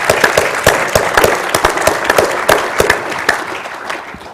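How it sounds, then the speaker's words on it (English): Applause for a panel group at a 2012 global supply chain business summit, a steady wash of clapping from an audience with sharp individual claps standing out over a few seconds. "Round of applause for the group."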